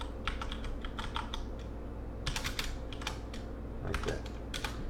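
Bursts of key clicks from a computer keyboard being typed on, in short uneven runs with pauses between them, close and fairly quiet over a steady low hum.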